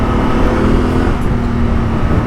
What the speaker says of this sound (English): I just want to take this motorcycle quickly on the highway and just test what it's like doing 100 kilometers an hour